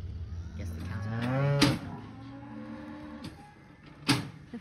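A cow lows in a long drawn-out moo at a farm, fairly close, followed by quieter rural background noise and a couple of brief sharp knocks.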